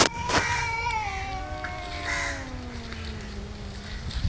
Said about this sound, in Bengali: দুইটা বিড়াল মারামারি করতেছে।